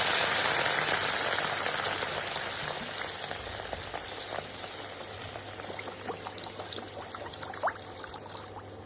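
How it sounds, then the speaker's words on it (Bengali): A generous amount of water is poured into a cooking pot for a Bhutanese ema datshi, a steady broadband pouring rush that gradually fades, with small splashes and drips toward the end and no talking. "এরপর আমরা এর মধ্যে দিয়ে দেবো বেশ অনেকটা জল।"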